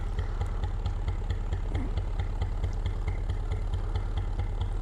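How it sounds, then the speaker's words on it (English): Boat engine idling on a canal, a steady low chugging pulse with a regular rhythm, close and continuous with faint clatter on top and no talking. "Just purring along nicely, that engine."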